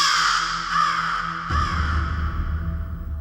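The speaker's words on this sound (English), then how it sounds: "The night crow cried" A crow caws loudly and harshly in a few drawn-out, raspy calls, set within a staged scene from Shakespeare's Richard III; no voices accompany it.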